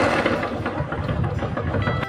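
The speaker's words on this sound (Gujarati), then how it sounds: "ફાઇનલી ટ્રેક્ટર આવી ગયું છે" A tractor engine runs steadily at a moderate distance, a rough, continuous low rumble with no talk, as it arrives on a village road.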